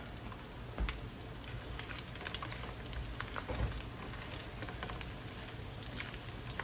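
Bacon sizzling in a frying pan, a quiet, constant crackle with scattered sharp pops and spits, heard alone without talk.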